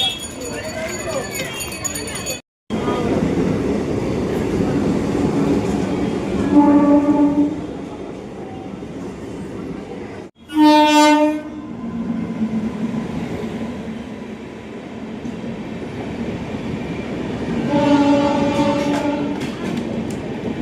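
A train at Belur railway station in India, with horn blasts standing out at several points over the steady rumble and clatter of the railway, and people talking around it throughout.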